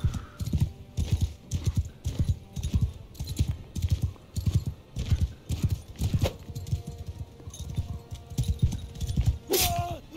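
Rhythmic hoofbeats of a horse in the video game Mount and Blade 2 Bannerlord patter quickly and continuously up close, with a brief sharp metallic clink near the end.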